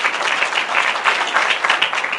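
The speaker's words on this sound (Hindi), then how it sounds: "जोरदार तालियां खुदा के जलाल के लिए" A church congregation bursts into loud, dense applause in a brief, steady burst of many hands clapping together.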